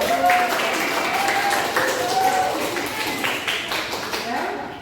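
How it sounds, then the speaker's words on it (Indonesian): Classroom students applaud their classmates during a nursing lesson, scattered claps mixed with overlapping voices and chatter that continue throughout. "tepuk tangan buat teman-teman"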